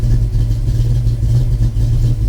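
Ford Fox Body Mustang V8 idling after tuning ahead of a turbo install, a loud, steady low rumble with a slightly uneven throb, heard close with nothing else over it.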